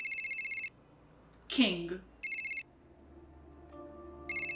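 A telephone rings in repeated double bursts, loud and clear, with a brief burst of speech between rings.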